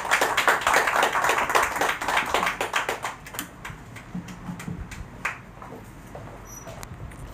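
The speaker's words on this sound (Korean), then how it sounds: "다시 한번 박수 한번 칩시다" A church congregation claps at a twelfth-anniversary thanksgiving service, a burst of many hands that is loudest at first, then thins into scattered separate claps as it fades.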